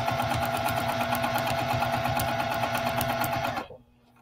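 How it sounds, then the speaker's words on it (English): A sewing machine stitches through soft vinyl quilting in a steady, close, continuous whir for about three and a half seconds, then stops abruptly, leaving near silence. "I just keep sewing in the same direction here"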